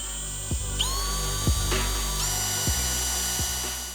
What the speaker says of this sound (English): So I'll go through and drill now the central holes.